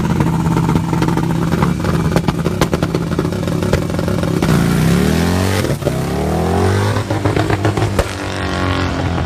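Outlaw class motorcycles race at a motorsports park during a bike fest, engines revving loud and close, climbing through gears with rising whines and passing roars, no talk.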